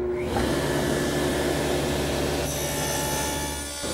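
A table saw fitted with a dado blade cuts wood tenons, giving a loud, continuous whining grind up close that shifts in tone midway and eases slightly at the end.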